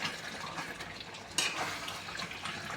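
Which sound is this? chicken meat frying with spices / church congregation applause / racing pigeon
chicken meat frying with spices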